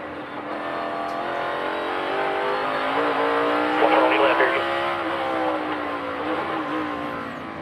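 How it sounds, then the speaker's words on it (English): A NASCAR Cup Series race car climbs the hill at Sonoma Raceway during the Toyota/Save Mart 350, its engine a loud, sustained whine that rises in pitch, with a commentator talking over it. "We're going to ride with Martin Truex. Oh, it's already gone going up the hill"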